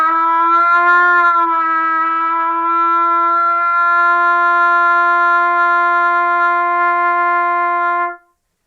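A trumpet sustains one centred, resonant note for about eight seconds, steady and loud with rich overtones, then stops cleanly; played alone with no talking.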